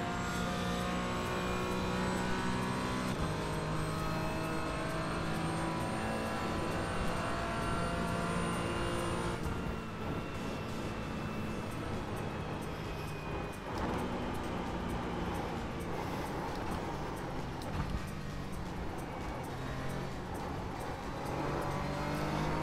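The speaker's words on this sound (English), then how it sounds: "GT3 is coming." A GT3 race car in the iRacing simulator approaches and passes, its engine a steady high-pitched drone that shifts pitch as it goes by, sustained and fairly loud throughout.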